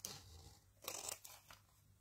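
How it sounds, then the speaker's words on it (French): Card is cut with a paper cutter or scissors, a few faint crisp snips and rasping tearing strokes up close in a quiet room. "Alors, vous prenez votre coupe-papier ou une paire de ciseaux."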